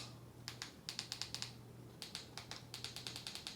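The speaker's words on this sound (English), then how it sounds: "I'm going to go ahead and take a little bit of a second here to type this correctly." Fingers type on a keyboard in bursts of quick, crisp clicks close by, two runs of keystrokes separated by a short pause, with a faint steady hum behind and no talk.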